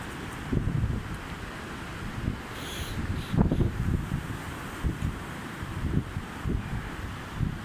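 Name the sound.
strong wind bending trees in Tallinn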